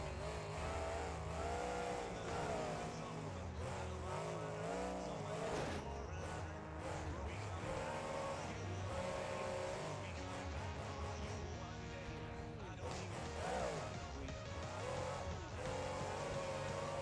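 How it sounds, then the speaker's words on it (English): Ford engine in the BeamNG.Drive driving game revving steadily for a long stretch, with rising and falling pitch sweeps and dense gritty mechanical tone, continuous and loud throughout. "This Ford engine is still the engine I put the most amount of time into so far"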